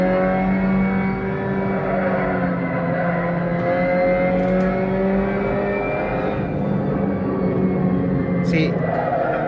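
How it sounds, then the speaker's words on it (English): A sim racing video game's car engine revs up toward the rev limiter, a loud sustained droning tone holding high pitch with slight wavering, with someone talking over it. "Let's bring it up to the limiter."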